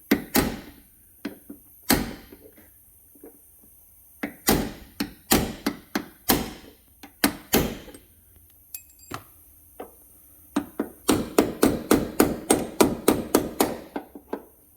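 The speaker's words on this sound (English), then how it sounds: "I'm using my smallest ball peen hammer I have" A small ball peen hammer strikes metal in sharp, ringing blows on a sagging Chevrolet Silverado door hinge during pin and bushing replacement, scattered at first, then a fast run of rhythmic taps near the end.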